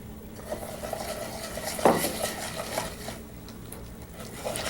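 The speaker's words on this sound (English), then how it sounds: "Now, this is the sauté method of cooking rice. The rice grains are sautéed for a little bit." Brown rice grains sautéed in ghee in a pan, with a spoon stirring and scraping against the metal, one sharper clank near the start, over a low steady sizzle.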